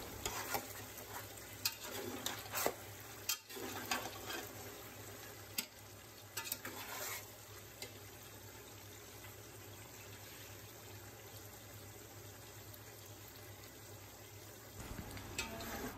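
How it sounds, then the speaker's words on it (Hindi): Chickpeas and chicken fry in a pot for chana chicken pulao, a low continuous sizzle with intermittent scraping stirs and clanks in the first half, then steadier quiet frying, close with no talk. "चनों की और चिकन की भुनाई अब मुकम्मल हो चुकी है"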